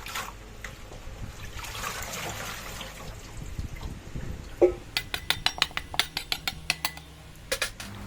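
Spring onion, dill and basil leaves being washed in water, with soft splashing and trickling at first, then a quick run of sharp clinks and knocks against a bowl or pan close by.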